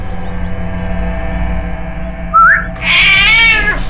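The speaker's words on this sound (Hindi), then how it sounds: "ये है वो बिल्ली" A cat meows twice in a tense crime-drama scene, a short rising cry followed by a longer wavering meow, set over a steady low hum of background music.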